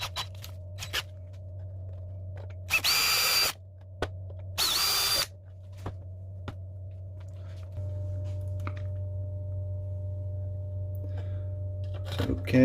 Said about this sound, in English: So we'll drill little holes in there so that we can just screw straight into the plastic.